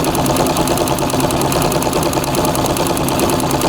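A sewing machine doing free motion quilting of feathers runs continuously at close range with a fast, even mechanical whir and rapid needle rhythm throughout.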